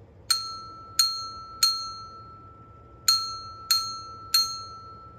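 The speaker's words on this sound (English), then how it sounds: "When you hear the bell ring, it's time for story time." A small bell is struck six times for children's story time, each clear, bright ding ringing out and fading before the next, two groups of three in a quiet room.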